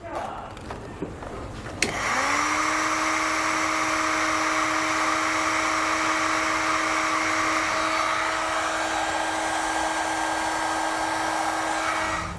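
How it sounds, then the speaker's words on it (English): A heat gun shrinks heat shrink tubing over a wiring butt connector: it clicks on and then blows a steady, close, whining fan hiss that holds on without a break. "I'll just grab my heat source to seal up our heat shrink ends"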